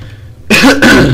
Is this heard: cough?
yes